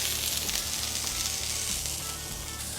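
Aldi smashed burger patties topped with American cheese sizzle steadily in a pan, a close, dense crackle of frying with a low rhythmic hum underneath, no voices.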